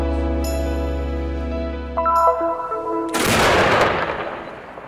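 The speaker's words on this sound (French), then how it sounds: "Un coup de canon retentit à Jérusalem." A single cannon shot fired in Jerusalem to mark the Ramadan fast, a loud sudden boom with a long rumbling tail that breaks in over a sustained musical tone.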